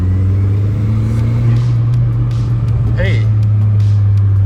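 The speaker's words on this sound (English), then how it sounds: "it's smoking when I rev it" A 20-year-old VW GTI that smokes when revved runs with a loud, steady low engine drone, a brief rise in pitch partway through, while a voice calls out over it.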